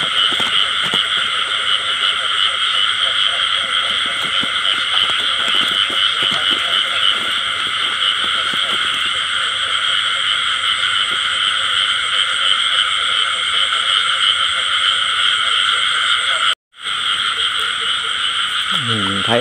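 Field frogs croaking at night during spotlight frog hunting in a paddy field: a dense, steady chorus of close and distant calls that runs the whole time and cuts out briefly near the end.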